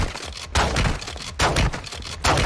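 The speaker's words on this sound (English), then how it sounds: "Switch to shotgun. And you need like 12 shots to kill him." Shotgun blasts fired at the Rhinoceros boss in Warzone DMZ, a rapid series of loud, heavy booms in quick succession with brief gaps between shots.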